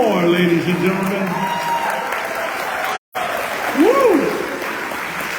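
Sustained audience applause fills an outdoor Hawaiian slack key guitar festival on Kaua'i, with a whoop of cheering and brief voices over the clapping.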